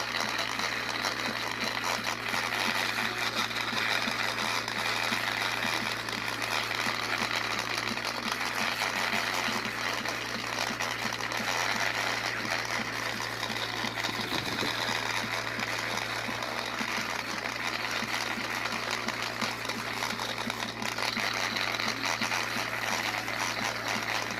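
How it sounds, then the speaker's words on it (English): A steady, loud whine of a power sander running continuously on drywall seams, with a constant hum and a gritty rasp of sanding throughout. "When sanding my seams, I prefer a circular method."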